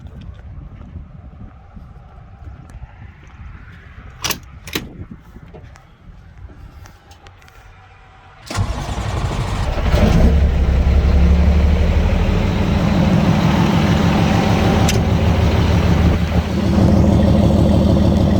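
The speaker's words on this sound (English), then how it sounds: "We'll jump back inside and we'll start it up so you guys can hear it run." A 2007 International 9200i truck's Cummins ISM turbo diesel engine cranks and catches partway through, then runs steadily with a loud, rough rumble after a quieter stretch of faint clicks and handling noise.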